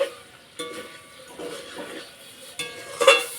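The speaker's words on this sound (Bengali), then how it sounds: "আর এখন বাপের বাড়িতে মাংস রান্না করছি।" Meat cooking in a pan at a family home, with soft intermittent stirring scrapes, light sizzle and a few clinks of a utensil against the pot, fairly close and quiet.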